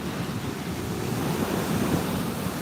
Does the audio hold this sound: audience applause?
no